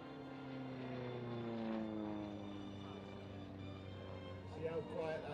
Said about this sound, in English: See how quiet that airplane is?